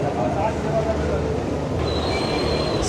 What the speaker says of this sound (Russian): Справа от нас железная дорога. Слышно, как поезда идут.